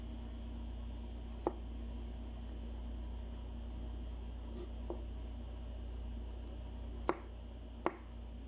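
Knife chopping vegetables for acar, an Indonesian pickled vegetable salad, a few sparse sharp taps on a cutting board spread over steady background hum, quiet and with no talking.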